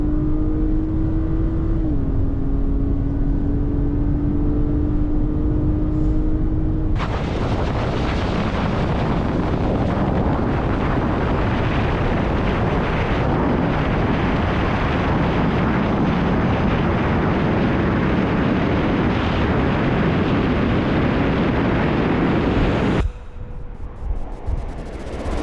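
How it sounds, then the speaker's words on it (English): A 2024 Lincoln Corsair, front-wheel drive, races other SUVs, including a 2024 Acura RDX and Mazda CX-5, in a drag race with wheelspin. Engines roar loud and sustained under heavy wind buffeting for about sixteen seconds, then cut off abruptly. "Come on, Lincoln. There's so much spinning on this thing."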